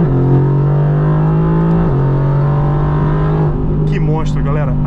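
A Mercedes-AMG engine roars close and loud at about 6000 rpm in second gear, a sustained snarling drone that shifts pitch partway through, with excited talking over it.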